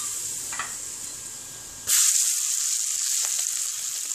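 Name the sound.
turmeric and chilli powder sizzling in hot oil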